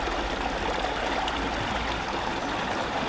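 Ice-cold water pours steadily over a runner's legs during recovery between race stages, a continuous close splashing trickle with no talk.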